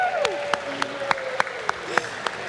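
A crowd at a live Super Smash Bros. Ultimate tournament event in London applauds and cheers after a finals-qualifying match, a short burst of clapping with rhythmic claps under an excited voice.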